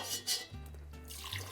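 Sugar syrup for Southern sweet tea being poured into a container, a soft faint liquid trickle and splash lasting about a second and a half.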